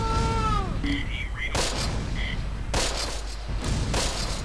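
German mortar shells exploding in the WWII strategy game Close Combat, several sharp booming impacts at irregular intervals over a steady battlefield background, with a brief chirpy game sound early on.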